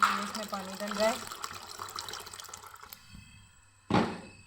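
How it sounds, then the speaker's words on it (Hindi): Water splashes and trickles into a pot of masoor and moong dal, with a short burst of pouring near the end and a voice talking in the kitchen. "इसमें पानी डल रहा है"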